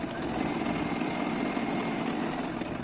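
Sewing machine stitching the left side of a buttonhole, a steady continuous mechanical hum and whir running unbroken throughout, close and moderately loud, with no talking.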